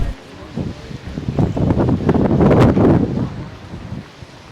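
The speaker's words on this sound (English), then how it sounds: "it does get windy a lot" Gusts of wind on Kalakaua Avenue, Waikiki, buffet the microphone, swelling into a loud rumbling roar mid-way before easing off again.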